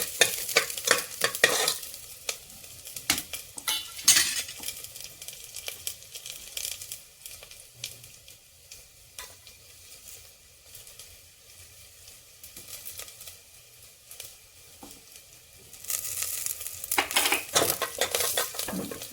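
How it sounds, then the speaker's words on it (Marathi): Garlic and onions frying in a pan for mutton masala, with a steady soft sizzle under repeated scraping and stirring strokes, busier at the start and end and quieter in the middle, close up with no talking. "आता लसण टाकून घेऊया। लसणला थोडं याच्यामध्ये शिजून घेऊ।"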